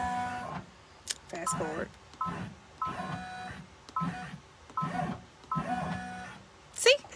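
A Brother PR655 embroidery machine stitches a backpack in repeated whirring, rattling bursts of roughly a second each, separated by short pauses, with a voice speaking briefly over it.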